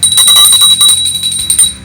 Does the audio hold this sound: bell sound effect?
yes